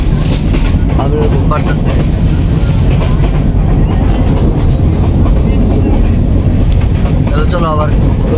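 A passenger train rumbles steadily along the rails from inside a carriage, with loud, dense continuous noise and faint rhythmic clatter. A brief voice is heard over it.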